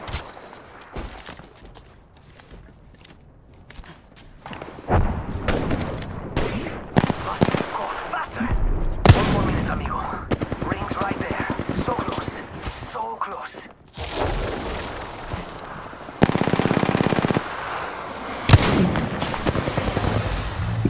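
Bursts of enemy gunfire in Apex Legends crackle through a busy battle mix, with repeated sharp shots and loud impacts clustered across the stretch, some bursts close and heavy.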